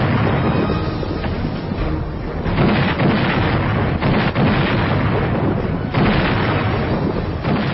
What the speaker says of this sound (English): He ordered an unprecedented barrage of heavy artillery.